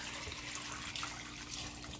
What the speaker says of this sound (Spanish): Vamos a echar agua,